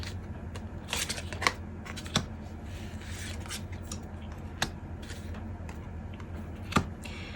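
Tarot cards are shuffled softly and steadily at close range, a faint papery riffling broken by a few sharper snaps and taps, with no talking.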